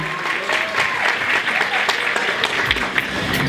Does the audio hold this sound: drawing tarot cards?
no